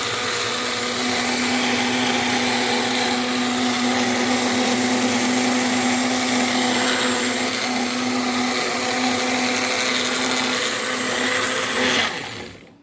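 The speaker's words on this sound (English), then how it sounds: "Okay, so now we're going to blend this up." A small personal blender (Magic Bullet) whirs continuously at high speed for about twelve seconds blending food, with a steady motor whine, then cuts off abruptly.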